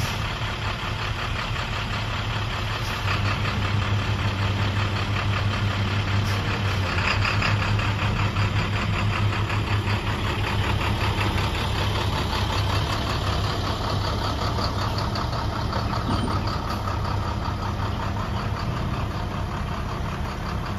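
A truck hauling a trailer idles near a crane, giving a steady low diesel rumble with an even mid-range chug that holds constant throughout at moderate volume.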